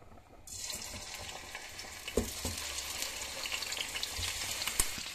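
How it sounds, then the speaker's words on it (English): Cut chicken pieces dropped into hot oil, the sizzle rising abruptly and then holding as a loud, close, steady frying hiss with a few soft knocks, no voices. "Then I'll be adding it to the oil"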